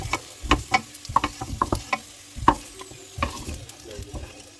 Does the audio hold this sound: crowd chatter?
no